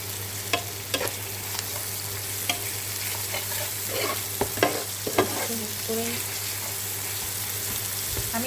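Spice masala frying in a pan during the cooking of a shol fish curry, a continuous close sizzle with occasional scraping stirs and light clinks over a constant low hum.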